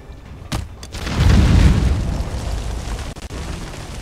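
A bomb detonates in the video game Conan Exiles: a sharp crack followed by a deep, rolling boom that swells and slowly fades, loud and close with no voices.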